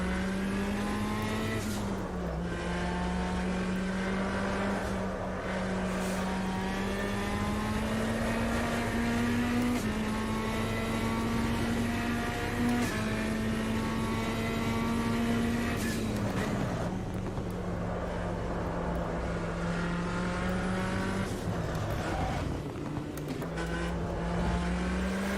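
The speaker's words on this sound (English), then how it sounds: "Braking and downshift, gas and downshift." Metalmoro MR18 race car engine at Red Bull Ring in Automobilista, a steady loud drone rising and falling with throttle and downshifts throughout, never letting up.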